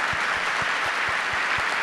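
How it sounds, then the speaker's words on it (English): Steady applause from a panel audience at an environmental justice meeting, a dense wash of clapping holding at an even level throughout the short stretch. "I just want to give a round of applause to my colleagues"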